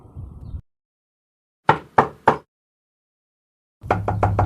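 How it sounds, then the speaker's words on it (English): Three sharp knocks rap on a door in quick succession, followed after a pause by a second rapid burst of knocking. "Now, at 11 p.m., there's a knock at Ajay's door"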